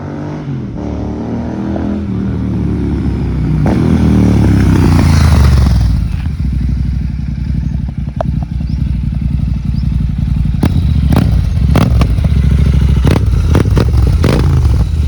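A GT 650 motorcycle with an aftermarket exhaust revving, a deep engine note that climbs and swells mid-clip, then settles to an idle broken by sharp crackles and pops.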